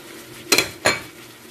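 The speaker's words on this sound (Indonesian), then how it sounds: "masukkan bumbu-bumbunya" Two sharp metallic clinks of a utensil striking a pan as spices go in for a chicken and potato curry, close and fairly loud with short pauses between, no talk.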